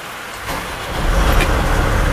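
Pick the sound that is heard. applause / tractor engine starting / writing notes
tractor engine starting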